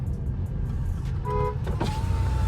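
A stock Skoda Octavia with a 1.8 TSI engine rushes past at high speed, a steady loud road roar with a brief horn-like tone in the middle, heard close and without talk.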